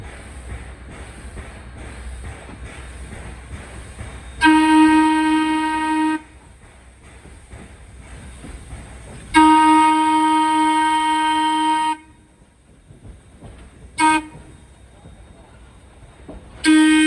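A train backs up with a former Lackawanna MU trailer at the rear, its loud horn sounding in several long blasts and one short toot over a steady rumble, with gaps between.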